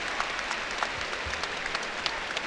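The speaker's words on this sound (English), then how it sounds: "she gets a nice hand here from the crowd at Colonial Life Arena" An arena crowd at Colonial Life Arena applauds an injured player at a women's basketball game, a steady wash of distant clapping with scattered sharper claps and no talk.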